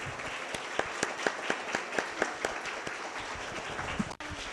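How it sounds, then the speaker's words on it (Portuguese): Audience applause for a writer at a book launch, a room of people clapping continuously with a few sharp, prominent nearby claps standing out, ending abruptly. "Palmas para a nossa escritora"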